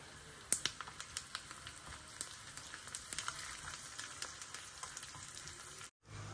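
Asafoetida sizzles as it hits hot oil for a ridge gourd chutney, giving a steady, close crackling fry with sharp pops scattered throughout and a brief cut near the end.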